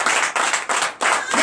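Rhythmic clapping of acclamation to Jesus at a nighttime deliverance church service, a few strong unison claps in a steady beat, loud and close.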